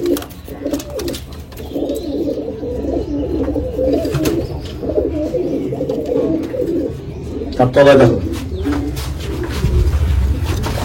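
Pigeons in a loft, black and white birds together, keep up a low, continuous cooing, close by, with someone speaking over the rolling calls.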